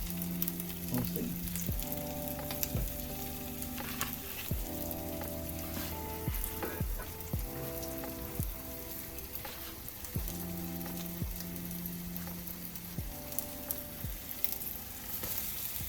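Slices of homemade scrapple fry in a pan with a steady, dense crackling sizzle and scattered pops, close and continuous without any talking.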